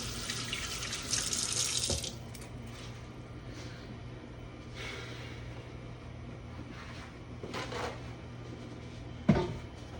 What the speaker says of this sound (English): I'm washing my hands before I even like season